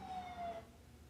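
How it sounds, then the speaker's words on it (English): An arriving ambulance's siren sounds as a single wailing tone that falls slightly in pitch and cuts off after about half a second, moderately distant over a low rumble of background noise. "Here comes the ambulance."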